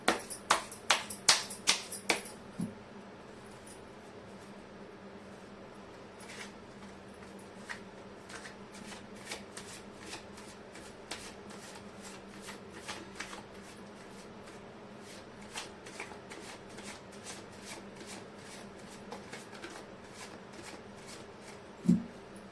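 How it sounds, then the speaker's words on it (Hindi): Tarot cards being shuffled by hand, a quick burst of riffling snaps at the start followed by steady soft flicking and tapping of cards, close and fairly quiet, with no talking. "कार्ड की शफलिंग।"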